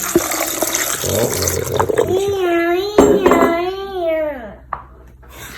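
Water pours steadily into a glass while a voice talks over it, nearby and fairly loud.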